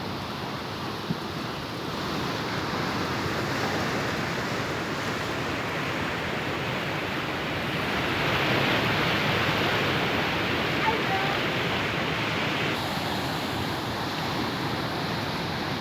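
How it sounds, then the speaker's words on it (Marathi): Floodwater from the swollen Megha river rushes over the main village bridge at Shirajgaon Kasba in Amravati, a constant roaring wash of water with some wind buffeting the microphone. "गावातील मुख्य पुलाच्या वरून हे पुराचं पाणी वाहू लागलंय"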